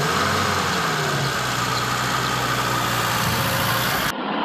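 A VAZ-21053 Zhiguli engine runs with a steady droning hum and broadband roar, loud and close, before cutting off abruptly at the end.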